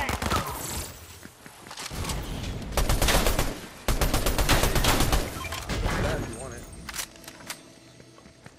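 Rapid bursts of submachine gun fire from golden dual micro SMGs in a video game, loud dense clusters of shots with brief gaps, under a talking voice.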